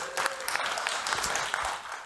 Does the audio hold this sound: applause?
yes